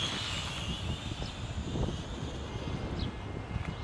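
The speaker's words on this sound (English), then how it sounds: "It's a little windy out here" Gusty wind outdoors buffets the microphone with a low, rough rumble that swells and eases throughout, while a faint high whine from the X6050 multirotor drone flying nearby sits over the top.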